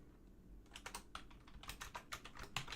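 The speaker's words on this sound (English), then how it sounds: "typing an H," Keys clatter on a computer keyboard in quick irregular bursts, close and fairly quiet, with no talking over them.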